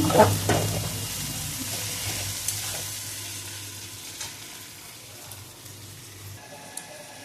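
Onions and fish sizzle in a pan, a loud, close, continuous frying hiss with a few stirring knocks, gradually easing in intensity, with no voices.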